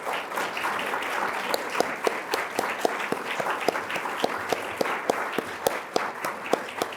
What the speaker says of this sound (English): could you please stand up so that everyone could give you a round of applause